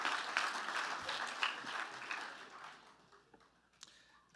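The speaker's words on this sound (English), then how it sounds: "You can clap, it's okay." Audience applause at a Vanderbilt Athletics Hall of Fame ceremony, a moderate wash of clapping that swells early and then thins out, fading toward a few scattered claps at the end.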